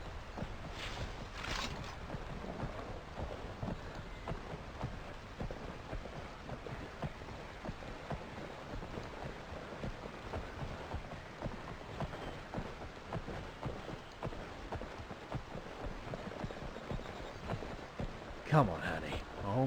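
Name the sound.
rain falling, from the video game Skyrim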